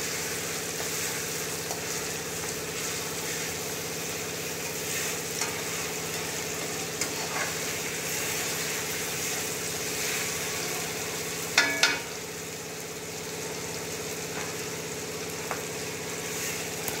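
Ginger garlic paste frying in hot oil gives a steady, dense hiss and sizzle throughout, with a brief scrape or clink of a utensil near the middle.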